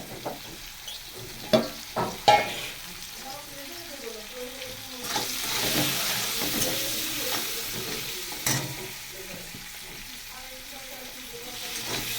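Shrimp fry in a pan with cardamom, bay leaf and cumin, giving a soft hiss that swells into a fuller sizzle midway, broken by occasional utensil knocks and scrapes, with faint voices in the background.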